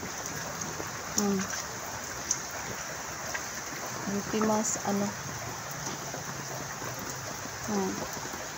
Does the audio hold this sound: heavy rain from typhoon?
yes